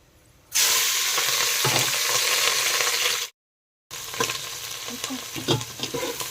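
Onions and green chilies hit hot oil with cumin and mustard seeds, giving a loud, steady sizzle that cuts out briefly and then resumes with stirring scrapes, for Telangana-style ugga.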